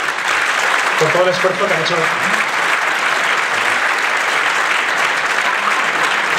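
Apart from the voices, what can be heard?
audience applause for the singers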